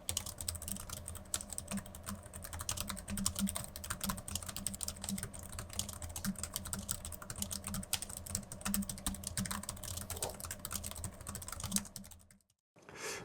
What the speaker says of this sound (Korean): 타건음 살짝 들려드리겠습니다.